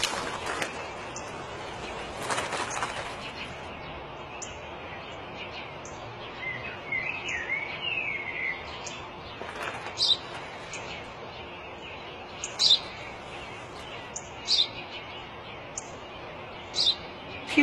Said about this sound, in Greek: Ένα σπουργίτη είναι, πατέρα. Ένα σπουργίτη.